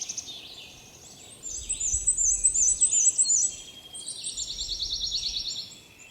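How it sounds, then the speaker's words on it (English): A black-and-white warbler sings at Star Lake, thin, high, rapidly repeated notes in two bouts separated by a short pause, fairly faint over quiet outdoor background. "that high teasy, teasy, teasy, teasy, teasy, which I'm pretty sure is a black and white warbler"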